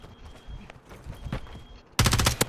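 Gunfire erupts in a battle royale match, scattered shots giving way to a loud rapid burst near the end, with players' voices faintly underneath.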